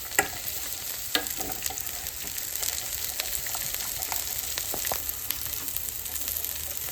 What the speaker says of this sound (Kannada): ಇಲ್ಲಿ ಈರುಳ್ಳಿ ಮತ್ತು ಕ್ಯಾಪ್ಸಿಕಮ್ ಫ್ರೈ ಆದಮೇಲೆ ಕ್ಯಾರೆಟ್ನ ಆ್ಯಡ್ ಮಾಡೋಣ